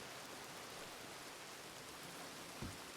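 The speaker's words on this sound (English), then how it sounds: "Yeah, it's fucking pissing rain." Steady rain in the video game WildRP, a soft, even hiss of falling water with a brief louder knock near the end, no talk.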